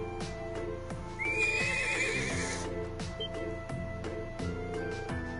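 A young horse from the Nord Highlands whinnies loudly in a video game, a rising high neigh standing out over steady game music and hoof clip-clops.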